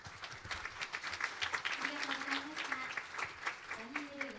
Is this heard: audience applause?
yes